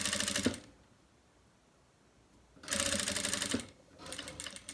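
Domestic sewing machine with a Teflon presser foot stitching synthetic fabric, two loud bursts of rapid whirring stitches separated by a quiet pause, then a softer third run.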